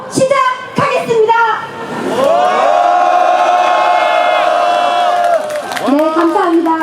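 A crowd at a protest rally in Incheon calling for the Yoon Suk Yeol government to step down roars in a loud, sustained unison shout, swelling after a brief lull and rising again in a second burst of cheering at the end.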